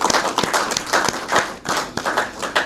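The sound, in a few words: applause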